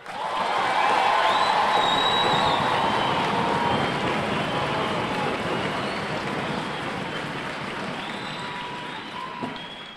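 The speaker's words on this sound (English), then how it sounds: "let's give them a round of applause." A large crowd of families and friends at an outdoor US Army basic training graduation at Fort Jackson applauds and cheers, a sustained, even roar of clapping and voices spread across a wide space.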